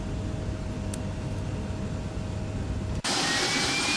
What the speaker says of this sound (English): Alright, can start on engine number 1, starting engine number 2. CF34s.